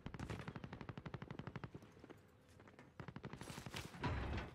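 Submachine gun fire in the Warzone video game: rapid bursts of evenly spaced shots, a pause, then another quick burst followed by a louder crack, all crisp and close.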